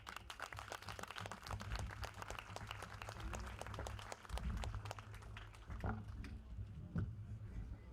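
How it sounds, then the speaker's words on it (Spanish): A university audience applauding to welcome a congressman, many distinct hand claps forming a lively, somewhat distant round of applause that thins out toward the end. "recibimos por favor con un caluroso aplauso"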